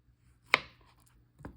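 A knife cuts the head off a banana in two sharp chopping strikes, the first louder at about half a second and the second fainter near the end, with quiet between them.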